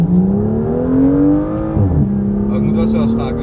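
A BMW M2 engine hums steadily from inside the car at an easy driving pace, its pitch rising gradually and then dropping as the gear changes. Conversation carries on over the engine note throughout.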